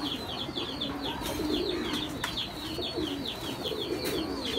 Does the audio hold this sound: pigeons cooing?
yes